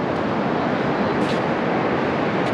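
Ocean surf at Drakes Beach in Point Reyes, Northern California, a steady, loud, broadband wash of waves rolling up the sand, continuous with no talk.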